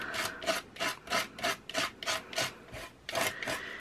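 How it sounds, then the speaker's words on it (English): A palette knife scrapes texture paste through a stencil in about ten rhythmic strokes. Each stroke is a close, gritty rasp with a brief gap before the next, and no voice is heard. "when you apply it through stencil, it scrapes really well off the surface"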